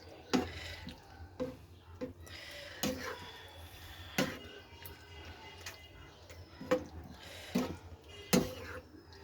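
Paneer is stirred in a cooking pan, sharp intermittent scrapes and clinks of a spatula against metal at irregular intervals over a soft background hiss of frying.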